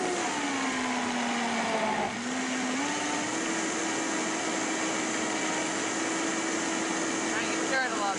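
A Vitamix blender whirs steadily, blending silken tofu into a dessert. Its motor pitch dips briefly and then climbs back to a loud, constant drone that runs the whole time.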